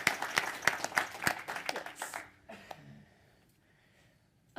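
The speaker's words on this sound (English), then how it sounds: "let's give another round of applause for Lukman" Applause from the audience at an accelerator pitch event starts as a burst of sharp, uneven clapping, then thins out within a couple of seconds into scattered claps and near silence.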